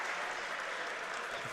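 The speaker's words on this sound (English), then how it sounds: "he's getting a nice little applause as he comes off the court" Steady crowd applause fills a high school boys basketball gym as a player comes off the court, a dense even clapping that holds unbroken and fairly loud throughout.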